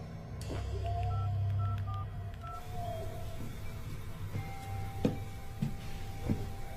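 Telephone keypad dial tones ring out as a call is placed: a short run of clear electronic beeps, then quieter clicks and a few sharp knocks.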